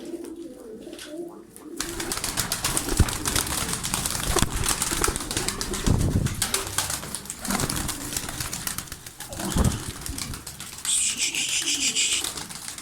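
A flock of marked pigeons is released to fly, with bursts of flapping wings over steady cooing, close and fairly loud, and a faint voice near the end.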